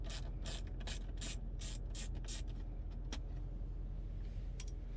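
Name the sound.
ratchet removing two 7mm screws from truck dash panel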